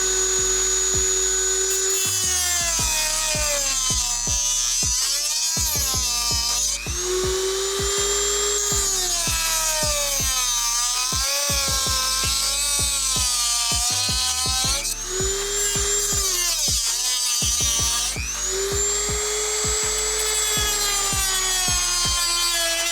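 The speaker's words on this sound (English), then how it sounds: "So I've got the Dremel here and I will cut this out with that." A Dremel rotary tool cuts through hard plastic with a high, piercing whine that dips and bends in pitch each time the bit bites under load, repeated over several cutting passes with brief pauses.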